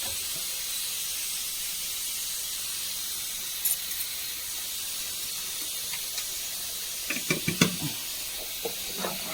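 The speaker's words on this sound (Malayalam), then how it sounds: "കറിയൊക്കെ നന്നായി തിളച്ച് വന്നിട്ടുണ്ട്" Curry simmering at a full boil in a pot in a home kitchen, a steady soft hiss of bubbling throughout, with a few brief clinks and bursts near the end.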